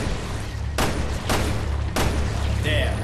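Gunshots from a gun in Resident Evil Revelations 2, three loud sharp blasts spaced about half a second to a second apart over a steady low rumble, with a brief clink after the last.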